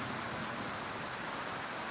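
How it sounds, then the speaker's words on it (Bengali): Heavy rain pours steadily onto a flooded road, a dense, even hiss of water with no voices. "প্রচুর পরিমাণে বৃষ্টি হইতেছে"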